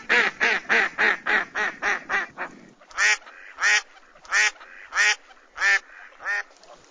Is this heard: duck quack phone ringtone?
yes